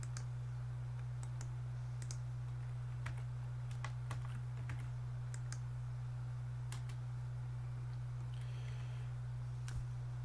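Commands are typed into a MySQL command line tool on a computer keyboard, with sparse, faint key clicks in short irregular bursts over a steady low electrical hum.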